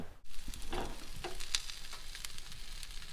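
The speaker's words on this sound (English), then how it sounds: "I'm going to do up some bacon and eggs on the square pan here" Bacon and eggs frying on a square pan in a van kitchen, a steady close sizzle with a few louder crackles and scrapes, no talking.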